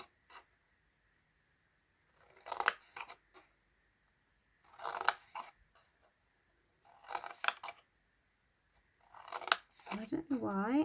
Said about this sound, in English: I don't know why I am using the wrong scissors, so my paper snips.